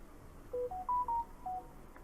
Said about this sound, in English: Just when you think you put your phone on silent.